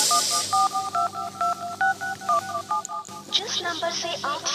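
Telephone keypad dialing: a quick run of clear DTMF beeps in irregular bursts, near and distinct, followed by a denser cluster of tones near the end with faint background noise.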